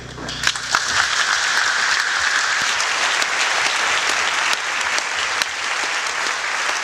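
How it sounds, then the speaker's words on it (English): Loud, sustained applause fills a conference talk hall, the crowd's clapping dense and even throughout. "So please, a round of applause for you."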